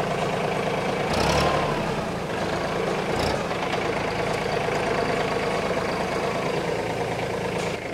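A Mahindra OJA tractor engine running steadily, a loud, close diesel chug with a constant low rumble and slight surges near the start, continuing evenly for several seconds with no talking.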